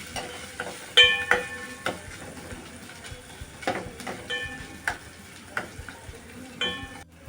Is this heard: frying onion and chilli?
yes